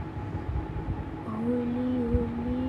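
A motorbike engine in the video game Traffic Rider whines at a steady pitch, then revs higher and holds there during a wheelie, over a low rumbling drone.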